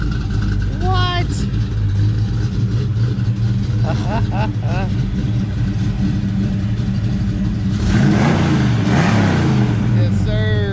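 A car pulls out of a shop with its engine humming and revving, heard steadily beneath people talking close by.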